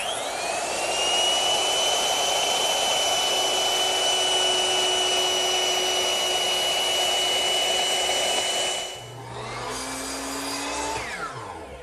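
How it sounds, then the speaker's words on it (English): A power tool cuts a decorative chamfer along the edges of wooden end panels for a coffee table, a loud, steady high-pitched whine lasting about nine seconds before it drops and the motor spins down. "on the outside face of the end panels, I'm running a decorative chamfer right along the edge of all 4 pieces"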